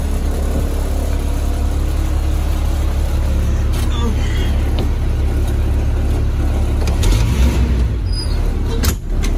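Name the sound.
vehicle driving, recorded from inside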